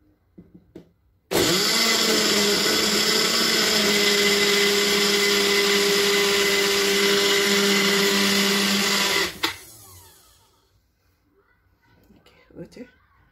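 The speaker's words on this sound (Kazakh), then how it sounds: "қақпақты мықтап жауып," A countertop blender whirs loudly and steadily for about eight seconds, blending a green smoothie of water, lettuce, mint and grapes, then stops abruptly, followed by faint handling sounds and a brief voice.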